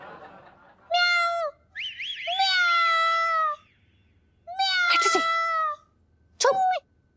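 A voice imitates a cat, giving several drawn-out meows of varying pitch, separated by short pauses, close and clear.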